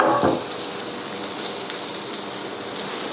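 A homemade cheeseburger patty sizzles in hot oil in a domed frying pan. A brief louder burst at the start settles into a steady, close, crackling hiss that continues alone.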